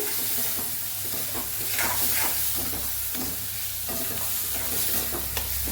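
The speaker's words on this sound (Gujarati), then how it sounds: "હવે આપણે આ બધા મસાલાને ટમેટા સાથે એકદમ મિક્સ કરી દઈશું" Spices being stirred into tomatoes in a hot frying pan for a dhaba-style sev tameta curry, with steady scraping of the spoon over a constant soft sizzle and hiss.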